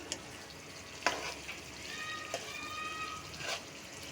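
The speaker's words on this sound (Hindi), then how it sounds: "ये देखें मैं आराम से इजीली इसको चम्मच से चला रही हूँ।" A spoon stirs kofta curry in a pan on the stove, giving a soft, steady sizzle with a few light scraping clicks and faint liquid sounds, close and fairly quiet with no talking.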